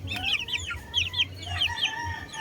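Sweater Boston gamefowl chickens cluck and call repeatedly in a backyard, their short, bright calls coming in bursts of two or three over a low background hum.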